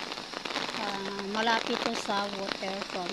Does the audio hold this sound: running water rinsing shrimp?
no